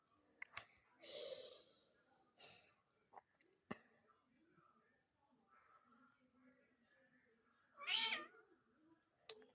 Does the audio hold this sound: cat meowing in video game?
yes